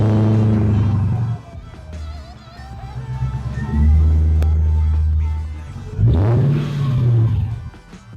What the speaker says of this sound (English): So now let's do cold start with this cool exhaust.